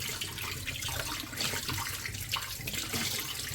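Cold water runs steadily from a kitchen tap over raw chicken being washed in the sink, a continuous loud splashing gush with no speech.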